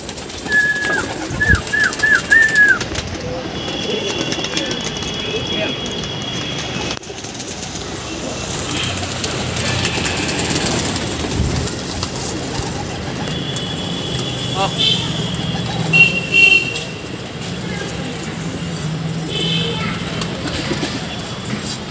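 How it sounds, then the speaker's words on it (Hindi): Pigeons cooing while being fed grain at a home, soft throaty coos near the start, followed by rustling, light tapping and a continuous outdoor background. "तो अभी चलिए कबूतर को दाना देते हैं।"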